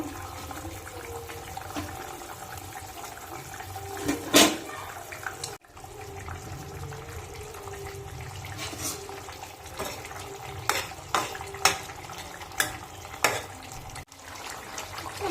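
Silver carp fish pieces drop into a bubbling curry gravy with raw tomatoes, giving steady watery bubbling and sloshing with a few sharper splashes and clatters near the middle and end.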